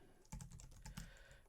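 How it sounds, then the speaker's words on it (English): Rapid clatter of typing on a computer keyboard while filling in a cryptic crossword, with quick close keystrokes in short bursts and no voices. "I'm going to start typing it in."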